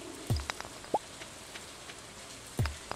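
Rain falls in a co-op farming video game, with soft steady patter and a few sharper drips on a surface, fairly quiet and with no talking.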